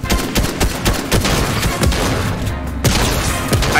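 Rapid, loud gunfire in Fortnite, close repeated shots in a fast uneven rhythm with booming impacts, continuous through the moment.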